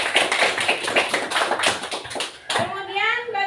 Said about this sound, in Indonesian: tepuk tangan buat Dela